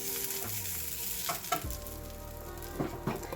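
Ginger garlic paste being stirred into onions frying in a pan, a continuous close sizzle with a few soft scrapes and taps of the spoon as it is mixed in.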